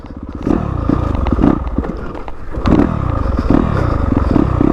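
A Yamaha YZ250FX dirt bike engine runs loud and close, idling with a steady thrum broken by several short throttle blips that rise and fall.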